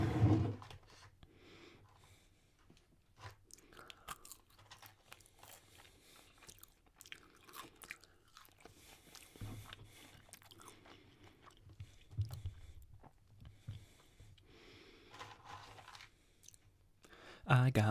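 Crunchy french fries are bitten and chewed close to the microphone in irregular, crisp bursts, with a voice talking intermittently alongside.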